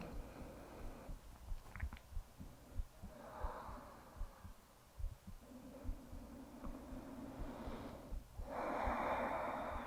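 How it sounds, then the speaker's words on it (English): Slow, audible breaths during a yoga session, soft inhales and exhales repeating at a calm, unhurried pace, close and quiet with a fuller exhale near the end. "just start to slow your breath down."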